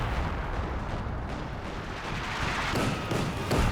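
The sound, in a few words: base artillery howitzer shelling in Company of Heroes 2 video game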